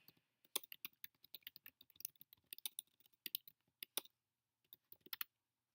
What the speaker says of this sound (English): Gosh, I can't type tonight.